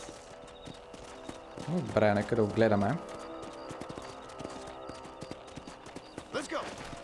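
Horse hooves clip-clop at a gallop in the Red Dead Redemption video game, loudest for about a second near the middle and fainter before and after, with someone talking over them and a horse whinnying briefly.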